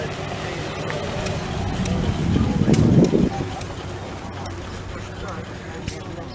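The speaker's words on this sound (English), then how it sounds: "Here comes a truck" A truck rumbles past at an outdoor tractor show on a hot, dusty day, a low engine swell that builds and peaks midway before fading into the steady background of the grounds.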